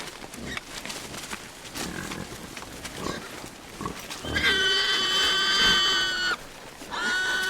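Loud, harsh pig squeals from a farm in Marignana, Corsica, several close, strained cries in the second half after quieter grunting and shuffling sounds.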